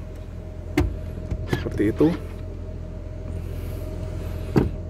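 Electric adjustment motor in a 2019 Mercedes-Benz GLS 400 SUV cabin gives short whirring bursts near the start and end of the clip, close and moderately loud, with someone speaking briefly between them.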